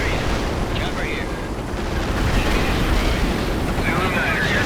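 Artillery strike in the World in Conflict video game, a dense continuous roar of explosions and rumbling blasts with scattered sharper cracks, loud and sustained throughout.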